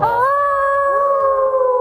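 A dog lets out one loud, sustained howl that holds a steady pitch and then slowly bends downward, close by and alone.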